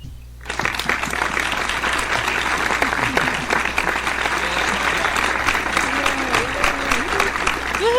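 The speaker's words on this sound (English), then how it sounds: "I'd like to give you a round of applause" A crowd applauds steadily and loudly, with scattered whoops and cheers rising over the clapping.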